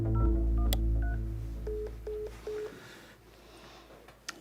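A telephone call goes unanswered: a quick run of dialing tones, then a few evenly spaced short beeps on the line, loud and close, ending in quiet line noise with a faint click.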